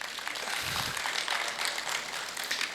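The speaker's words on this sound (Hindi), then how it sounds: "प्रोफेसर अल्ताफ़ के लिए तालियाँ।" A live audience claps for a visiting professor at a Hindi-language talk on happiness. Steady applause runs for about three seconds, dense and fairly far off, with no voices over it.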